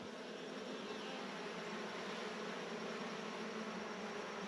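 Honey bees buzz at an open hive during a frame inspection, a faint, steady, low hum that continues unbroken without any talk.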